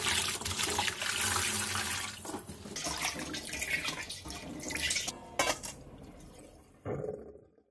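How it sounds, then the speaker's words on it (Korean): Running tap water splashes loudly over salted napa cabbage as it is rinsed in a kitchen, a steady rush with brief sloshes before the flow fades out near the end. "다 절인 배추는 물에 2번 정도 헹궈낸 뒤 물기를 충분히 빼놔주세요."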